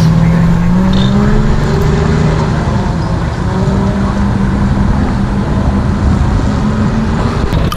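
A Valentine tank drives past at Tankfest, its engine droning steadily and loudly with the low rumble of tracks throughout, heard from nearby.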